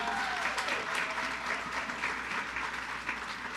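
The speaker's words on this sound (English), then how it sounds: "Can I get a round of applause?" A round of applause from the audience at the seventh annual State of the Women event in Rialto, steady dense clapping filling the room throughout without a break.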